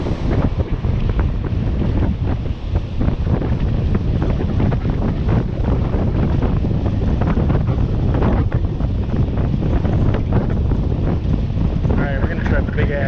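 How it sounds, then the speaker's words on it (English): Strong wind buffets the microphone on a boat while fishing, a loud, continuous roar with water sounds beneath and people talking under it. "A lot of wind."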